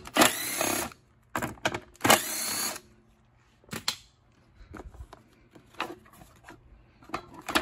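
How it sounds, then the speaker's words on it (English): A power tool whirs in short bursts while pulling three bolts out of a Troy Bilt or Craftsman mower, several loud close spins of varying length separated by brief pauses and fainter clicks. "So we'll pull these three bolts out."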